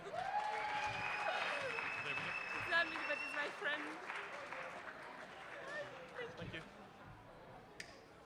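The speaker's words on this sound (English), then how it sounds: "So give her a round of applause, guys." An audience at a student union election results announcement gives a round of applause, a broad wash of clapping that swells and then thins out, with a voice speaking over it.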